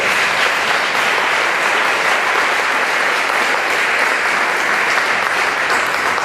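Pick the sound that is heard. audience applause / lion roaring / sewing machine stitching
audience applause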